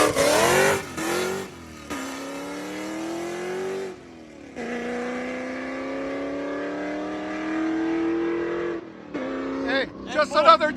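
A powerful ProCharged V8 Ford Mustang GT with headers and straight pipes, around 700 horsepower, revs hard in bursts, then holds a long, rising roar before cutting off and barking again with crackling pops.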